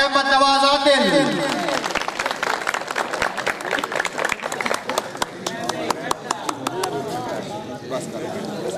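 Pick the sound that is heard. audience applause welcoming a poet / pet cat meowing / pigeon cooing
audience applause welcoming a poet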